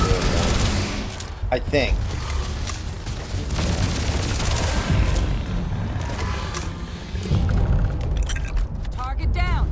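Rapid laser gunfire in the sci-fi video game Starfield, a dense, loud barrage of zapping shots and booms layered with chirping energy bursts, while someone speaks briefly over the combat.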